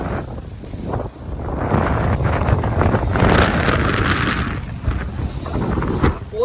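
Strong gusting wind roars across the seashore at Dhanushkodi, buffeting the microphone with a steady loud rumble and surging waves beneath, sustained throughout with no voices.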